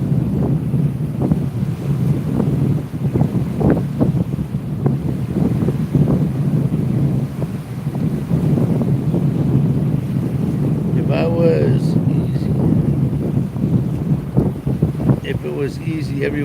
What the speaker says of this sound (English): It's hard to fish this in this wind.